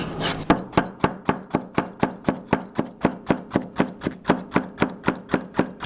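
Steady, evenly spaced knife chops slicing peppers thinly on a cutting board, about three to four per second, close and crisp with no voices.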